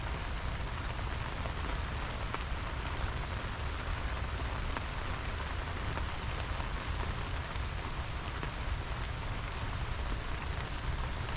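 Heavy rain pouring on a garden in Georgia during flooding, a dense, constant hiss of water striking leaves and soil, steady and close, with no voices.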